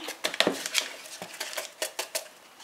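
Baking powder is mixed into flour for a genoise sponge, a utensil tapping and clinking against the bowl in a quick, uneven run of bright strikes, close and fairly loud with no talk.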